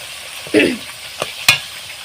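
Pointed gourd pieces are gently stirred in hot oil, with three short scraping strokes of a spatula against the pan over a soft sizzle.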